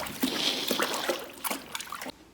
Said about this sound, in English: Now do you guys believe me that she knocked her water bucket over?